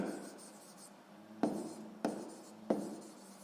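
Handwriting on paper while working a sixth-grade math exercise, heard as soft scratchy strokes with a few sharper taps marking new strokes, close and quiet, with no talking.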